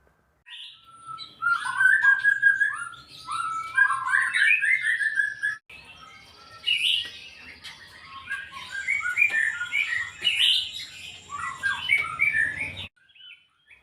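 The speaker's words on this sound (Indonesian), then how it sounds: "cara serta teknik yang kami pakai untuk mengkondisikan masalah murai batu pastol Om Santo seperti apa?" A white-rumped shama (murai batu) delivers rich, varied whistles and chattering phrases, loud and close, with a brief pause midway.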